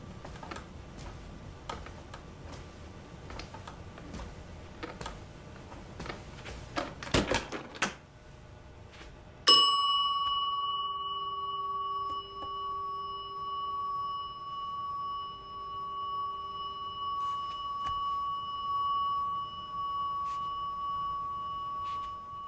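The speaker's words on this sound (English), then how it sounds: "We just sort of spliced the sections of the bell together to get it to the length that we needed" A struck bell rings in Barton Fink, its clear sustained tone stretched unnaturally long by splicing several takes together, ringing alone after a stretch of clicks and taps.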